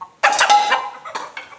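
Chickens being weighed for sale before a festival cluck loudly and close by, with a burst of agitated squawks followed by a couple of shorter clucks.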